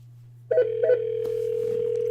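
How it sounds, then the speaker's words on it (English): A telephone line rings during a call transfer: two short buzzing pulses, then a steady electronic tone that holds over a low constant hum. "Phone's ringing."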